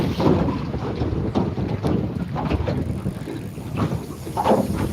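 Engine drone and hull slapping from an alloy fishing boat underway at sea, a low rumble broken by irregular thumps of water against the metal, heavily buffeted by wind on the microphone.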